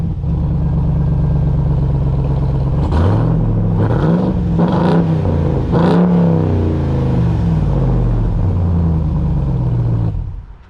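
Supercharged 6.2-liter Hellcat V8 in a 2021-2023 Ram 1500 TRX pickup accelerating hard, a loud close engine roar rising through several gear shifts with rev climbs and dips, steady throughout before cutting off at the end.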